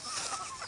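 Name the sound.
chicken clucking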